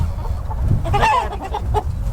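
Chickens cluck and murmur close by at a coop, a busy cluster of clucks and short calls with low rustling beneath, no clear talk.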